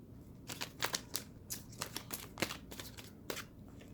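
Tarot cards being shuffled by hand: a steady run of crisp riffling and flicking bursts, close and fairly quiet, with no voices.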